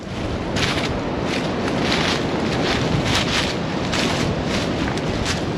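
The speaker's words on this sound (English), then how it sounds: "It is really windy out today, but conditions are perfect." Constant roaring wind buffeting the microphone on open farmland, with rhythmic gusty bursts of noise throughout and no voices.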